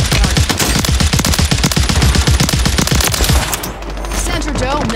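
A Glock pistol firing in rapid full-auto in Call of Duty Warzone on Rebirth Island, a loud, close, fast string of shots for several seconds that stops abruptly, leaving quieter game ambience.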